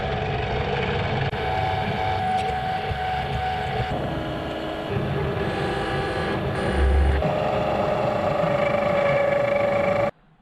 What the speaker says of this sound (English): Let's get the centre bit bored out to 1 inch.